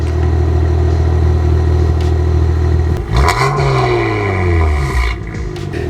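A BMW 135i with a straight-piped exhaust and failing turbos, loud and close, holding a steady rough rumble before a brief rise and fall in revs midway, then settling back to a coarse idle.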